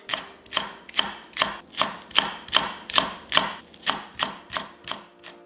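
A knife slicing a green onion on a cutting board, about fourteen crisp, evenly spaced chops in a steady rhythm, close and clear with no other sound.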